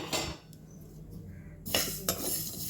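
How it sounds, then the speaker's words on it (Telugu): Mustard and fenugreek seeds fry in a pan for a curry leaf pickle, with metal utensils clinking and scraping against the pan in short bursts over a low background hiss. "ఆవాలు మెంతులు ఫ్రై చేసుకుంటున్నాను"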